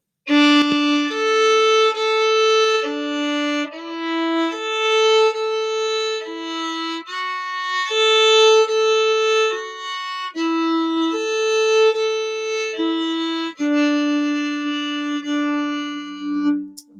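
A bowed string instrument plays a smooth, connected melody of sustained, slurred notes, clear and close, with no talking throughout.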